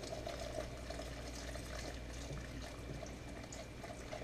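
Liquid is poured steadily into a pot of homemade bone soup, giving a continuous faint watery rush with no talking over it.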